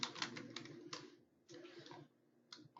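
Quiet clicking of computer keyboard keys while entering data into an Excel spreadsheet, short irregular bursts of taps separated by brief pauses, close and soft.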